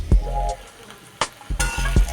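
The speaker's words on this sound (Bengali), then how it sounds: "এটা আমি নাড়াচাড়া দিয়ে নামিয়ে দেব।" A spoon stirs cooked vegetables in a pan with brief clinks and scrapes over a faint sizzle, in a few quick close strokes.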